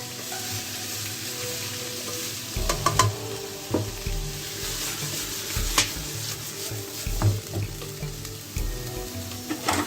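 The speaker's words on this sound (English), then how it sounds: "I have added my potatoes in, and you can like stir fry them now" Potatoes stir-fried in a pan, a continuous close sizzle with irregular spatula scrapes and taps as they are tossed, loud and steady.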